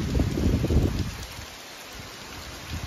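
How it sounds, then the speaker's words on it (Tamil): Steady rain falls outdoors over a garden in Hosur, a continuous hiss with a heavier rumbling patter in the first second that settles into an even wash. "கண்டினியூஸாக மழை பெஞ்சிக்கிட்டே இருக்குது, டெய்லி மழை பெய்யுது."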